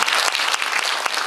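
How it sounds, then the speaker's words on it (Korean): An audience at a Korean women's awards forum claps steadily and densely for about a second, a loud crowd-wide applause with no voices over it. "박수 한번 치세요."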